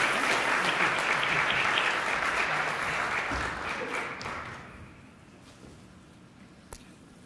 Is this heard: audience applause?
yes